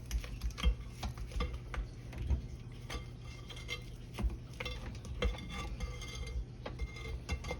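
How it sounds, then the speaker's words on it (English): Spatula scraping chocolate buttermilk cake batter around a mixing bowl, with soft repeated scrapes and light clinks against the bowl under a steady low hum, close and moderately quiet. "Give it a little scrape down here."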